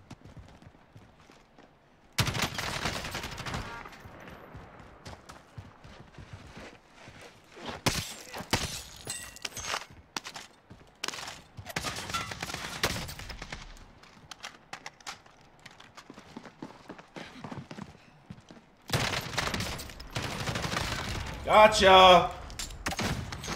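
Sharp bursts of video game gunfire in scattered volleys, loud and close, mixed with shattering crashes and someone shouting over the shooting.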